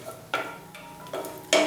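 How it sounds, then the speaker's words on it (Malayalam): Cashews or almonds frying lightly in a pan, heard as a few distinct stirring scrapes and crisp rattles at spaced intervals over a soft sizzle, no speech. "നല്ലൊരു കളർ, ചെറിയ ലൈറ്റായിട്ടൊരു കളർ വരുന്നത് വരെ മാത്രം ഒന്ന് വറുത്ത് കൊടുക്കുകയാണ്"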